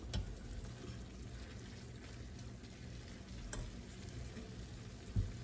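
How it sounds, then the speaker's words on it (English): A pan warming up on the stove for a chicken casserole gives a steady, low sizzle and faint frying hiss that runs evenly throughout, with a couple of light clicks and a brief knock near the end. "So that's finally warming up the pan."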